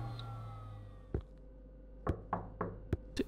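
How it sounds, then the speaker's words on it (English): Knocking on a door in the indie horror video game Concept of Fear, one knock followed by a pause, then a run of four or five hollow raps that are fairly close and distinct over a quiet background. "Knocking at the door again."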